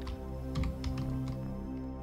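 Someone types on a computer keyboard nearby, a quick irregular run of soft key clicks over a steady background hum.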